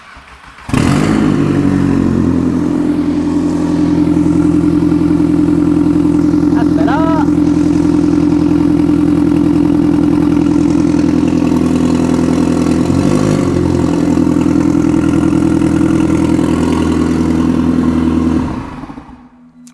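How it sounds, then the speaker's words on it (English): A turbocharged 20-valve Mk3 VW Golf engine cranks and fires, then settles into a loud, steady idle with a deep, even drone that holds for most of the clip before it is shut off. "let's go for our first all together connected startup"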